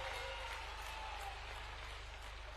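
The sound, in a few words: applause for Home Minister Amit Shah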